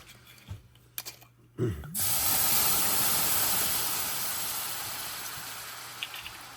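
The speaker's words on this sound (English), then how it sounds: "Now we deglaze Cabernet Sauvignon." Cabernet Sauvignon poured into a hot beef stew pot to deglaze it, starting with a few knocks and clinks, then a sudden loud steady sizzling hiss that fades slowly.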